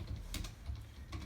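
Keys tapped on a computer keyboard, ending with a press of the Enter key: a few quiet, close plastic clicks in quick succession, the last one landing near the end.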